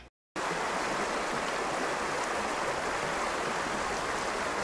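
Water in a stream flows steadily through Bryce Canyon, a broad, constant rushing hiss heard up close after a brief moment of silence, with no voices.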